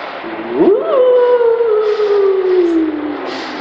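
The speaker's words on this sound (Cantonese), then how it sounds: "隱隱約約喺好遠嗰度聽到有豺狼偷笑嘅聲音" A single long, wavering wolf howl used as a sound effect in a spoken folk tale, rising sharply then sliding slowly downward, loud and close, alone without talk.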